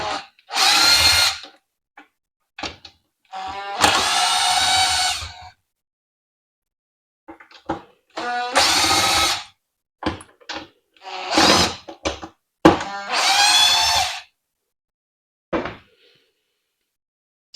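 Power screwdriver backing out Phillips head screws on a 19-year-old Vitamix 5200 blender, several short whirring bursts separated by silences, close and fairly loud.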